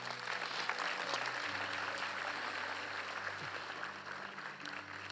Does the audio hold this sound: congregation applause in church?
yes